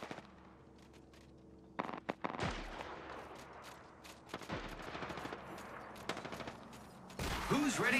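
Gunfire in Apex Legends crackles in scattered bursts and sharp single shots, some close and loud, others quieter, with a short sustained volley near the end.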